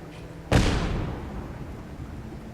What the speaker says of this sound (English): That explosion was a booby trap that the raiders themselves set up, and they just set it off